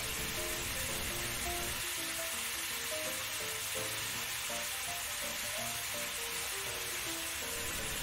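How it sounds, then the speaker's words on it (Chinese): A Kyoto-style pork cutlet fries in a pan at home, giving a steady, quiet sizzle with fine crackling that runs without a break and with no voices. "大约煎佢三分钟时间到"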